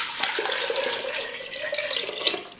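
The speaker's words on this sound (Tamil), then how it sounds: "அடுத்து கருகுன அளவு முழுகிற வரைக்கும் தண்ணி ஊற்றிக்கணும்" Water pours into a burnt cooking vessel already dusted with baking soda, a steady splashing gush heard up close and without talk for the whole stretch.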